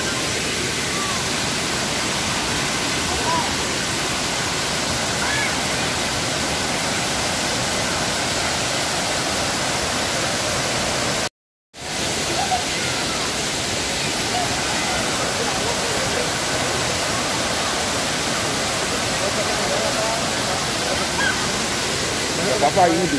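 Waterfall at Benang Kelambu on Lombok, a steady, dense roar of falling water that fills the whole clip, close and loud, with a single brief dropout midway.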